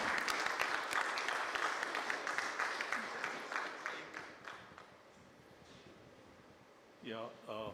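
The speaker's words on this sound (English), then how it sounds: "Can we have a round of applause one more time" Audience applause at an agri and commodity business summit, a dense crowd clapping loudly for several seconds before thinning and fading out, followed by a brief voice.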